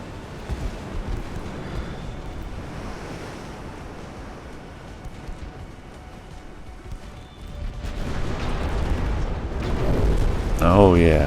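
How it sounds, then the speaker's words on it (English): Torpedoes strike warships in Ultimate Admiral: Dreadnoughts, heard as a rolling watery rumble like surf, building into louder, rougher detonation noise toward the end while a voice talks in places. "3 torpedoes hit."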